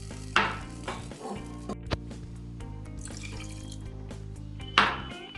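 Water pours steadily into a pan for vermicelli semiya halwa, a continuous close-up stream with a few metallic clinks from the pan.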